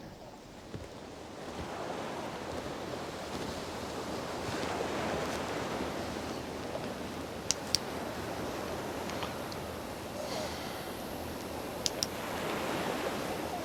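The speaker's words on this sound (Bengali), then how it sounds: "এই ঢেউয়ে তো ট্রলার দাঁড়াইতেই পারবে না।" Sea waves wash continuously under gusting wind, forming a steady, dense roar for the whole stretch, with a few faint clicks near the middle and end.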